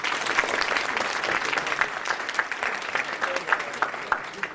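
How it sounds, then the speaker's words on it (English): An audience at an awards ceremony applauds steadily, a dense wash of many hands clapping at moderate loudness with no voices over it. "Can I hear a round of applause?"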